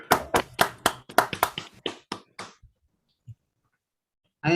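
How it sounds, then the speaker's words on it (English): A short round of applause from a virtual platform party at an engineering and management graduation ceremony: about a dozen separate claps, loud and close at first, then thinning and fading to silence, with one more burst at the end. "give a round of applause to all of our graduates"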